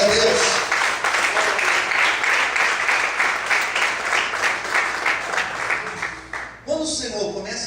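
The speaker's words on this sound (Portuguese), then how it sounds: "Você pode aplaudir o Senhor bem forte" A church congregation applauding loudly during a sermon, steady dense clapping sustained for several seconds before tapering off as a voice returns.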